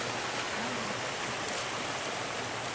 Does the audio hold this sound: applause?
no